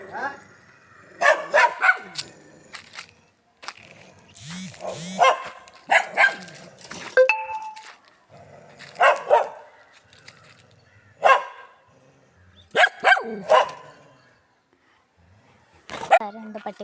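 Two puppies yipping and barking in short bursts, close by, repeated across the span, interleaved with people talking nearby.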